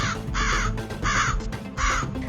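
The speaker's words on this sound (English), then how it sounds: "many crows started coming down to peck at them all" Crows in an animated children's story give three loud, harsh caws, evenly spaced and close, with nothing else heard between them.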